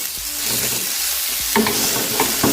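Tomatoes fry in a pan for a prawn ghee roast, giving a loud, constant close sizzle with scraping stirs and clinks of a spoon against the pan.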